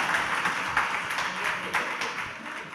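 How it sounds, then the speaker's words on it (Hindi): An audience applauds during a sermon: steady, moderately distant clapping from a crowd, forming a continuous patter with a few sharper claps standing out. "ये तो बार बार तालियां बजाते हैं"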